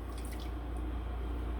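Faint water in a sink of warm water while a facial cleansing brush is rinsed, a soft trickle and light drips under a low steady hum, with no speech.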